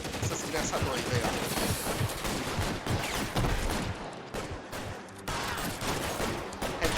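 Rapid bursts of gunfire from the crime video game L.A. Noire rattle on densely for most of the stretch, loud and continuous with brief lulls, while someone talks over the shooting.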